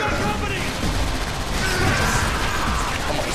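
Rapid gunfire from a turret in Transformers: War for Cybertron, a dense, loud stream of shots and impacts running the whole time, with voices talking over it.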